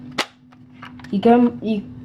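A Nerf Rival Overwatch McCree toy blaster fires once with a single sharp, close snap, followed by a short stretch of a voice.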